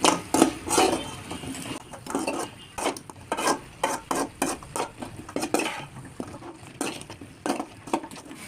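Idli pieces being stirred and fried in a pan on a slow flame for chilli idli, heard as a steady run of close, repeated scraping and clinking stirs over a soft sizzle, with no voice.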